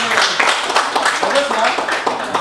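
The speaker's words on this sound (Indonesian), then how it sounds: "tepuk tangan dulu untuk kelompok 1" Clapping from a classroom group applauding the first student team after their presentation, a dense patter of hand claps mixed with chatter and voices throughout.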